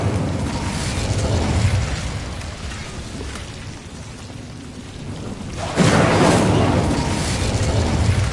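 A fire spell cast in a Harry Potter video game, with a steady roaring, rain-like rush that swells sharply into a louder, fuller burst near the end.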